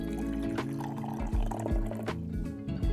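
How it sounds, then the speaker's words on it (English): Tea poured from a gaiwan during gongfu brewing, a steady close liquid stream filling a small cup with bubbling, trickling splashes, no talking. "we're going to hold the top and bottom, and we're going to go out and pour in."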